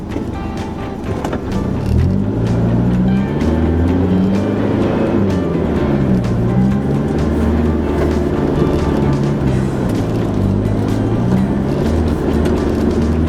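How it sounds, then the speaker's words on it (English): A 4WD climbs a steep track in low range on Herne Spur near Wonnangatta in Victoria's High Country, its engine droning loud and steady throughout. "I have to go in low range because I'm too close to these guys."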